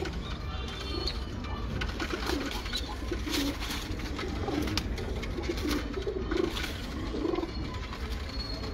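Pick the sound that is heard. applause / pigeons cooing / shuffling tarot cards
pigeons cooing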